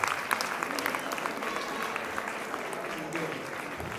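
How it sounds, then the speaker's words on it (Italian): An audience applauds steadily at an Italian lecture, a dense, even patter of many hands held for the whole stretch at moderate loudness. "Federica meriterebbe un applauso"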